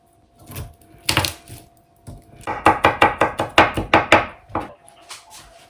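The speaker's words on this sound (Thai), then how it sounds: "เราจะซอยกระเทียมเตรียมเอาไว้นะคะ" Rapid knife chopping of garlic on a cutting board, a quick run of crisp, evenly spaced taps after a couple of isolated strikes, close and fairly loud.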